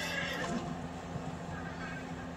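A horse whinnies faintly amid steady background game sounds and a low hum, with light hoof clopping underneath.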